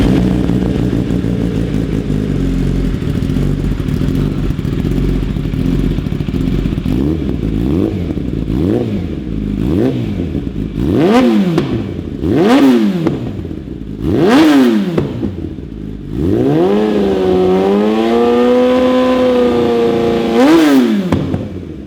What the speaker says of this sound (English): you know I'm going to rev it, and I would never rev a cold motor